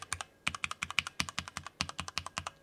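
Typing on a Cherry MX 8.2 TKL wireless mechanical keyboard fitted with MX Red switches: a steady run of crisp, close keystroke clacks at an even, brisk rhythm, with no talking.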